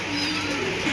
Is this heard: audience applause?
no